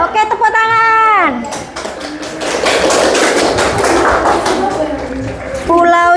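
Indonesian primary classroom group applauds Group A's answer in a lively burst of clapping and children's chatter lasting several seconds, between a teacher's voice speaking before and after.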